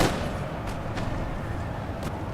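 Musket volleys from Young Guard infantry in Napoleon Total War, a multiplayer battle on Pyrenees Peak, come as scattered, distant cracks over a steady rumbling battlefield din, with a few sharper reports standing out.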